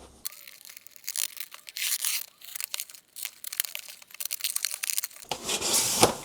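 Scissors cut and tear through a shipping package holding a Nintendo Switch game collection, with close, continuous crinkling of plastic and cardboard scraping that comes in uneven bursts, then grows denser and louder near the end.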